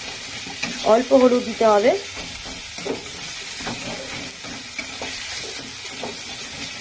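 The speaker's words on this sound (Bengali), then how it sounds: "টমেটো পেঁয়াজ দিয়ে নাড়তে থাকছি" Tomato and onion frying in a pan for fish curry, stirred with a steady sizzle and occasional scrapes; a voice speaks briefly over the cooking early on, then the frying continues alone.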